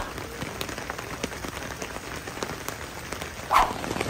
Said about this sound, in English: It's raining pretty good out here this morning